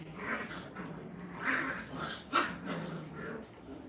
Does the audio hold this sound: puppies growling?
yes